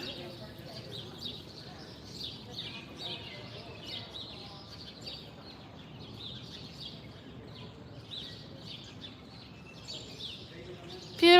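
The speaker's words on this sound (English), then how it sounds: "Isn't that beautiful little bird there?" A small bird sings in spring on historic Q Street in Washington, D.C., its faint, repeated high chirps and trills carrying from a distance over quiet street ambience, with brief talk at moments.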